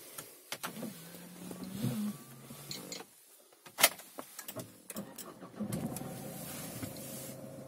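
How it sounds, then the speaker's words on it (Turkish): A second-generation Renault Scenic is started after a few interior clicks and whirs: a brief starter crank, then the engine catches and settles into a steady idle, heard from inside the car. "Aracı çalıştırıyorum."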